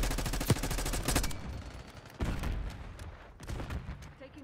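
Gunfire in the Call of Duty Black Ops 6 beta multiplayer comes as rapid automatic bursts, strongest early, then a few shorter volleys near and fairly loud over a busy game-sound bed.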